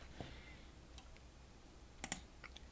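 Faint computer mouse clicks during a Lightroom photo import, a handful of sparse, quiet clicks including a quick double click, over a low, steady background with no talking.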